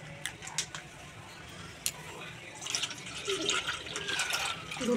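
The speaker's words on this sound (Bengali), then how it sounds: "দুধটা ঢেলে দিলাম, পুরো দুধটা দিয়ে দিলাম এর মধ্যে" Raw, unboiled milk is poured into a bowl while making patishapta pitha, a soft liquid splash and trickle that grows fuller toward the end, with someone speaking softly over it.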